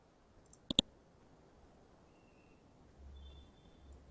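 A computer mouse gives two quick, close clicks near the start, then quiet room tone follows with a low hum.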